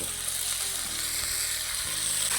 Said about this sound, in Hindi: ये 2 टेबलस्पून इसके अंदर प्याज डाल रहा हूँ। इसको करेंगे हम हल्का सा फ्राई।